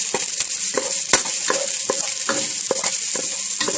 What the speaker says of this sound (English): I'm going to saute it for a little bit here until it's fragrant